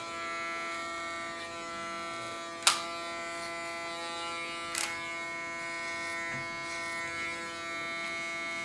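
An electric hair clipper buzzes steadily and close while cutting short hair, a constant humming drone with a couple of sharp clicks of the blades.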